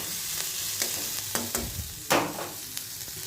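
Chopped onion, ginger and garlic sizzle in a hot pan, with a soft steady fry and sharp scraping clicks as a spoon stirs them at irregular intervals, close and alone.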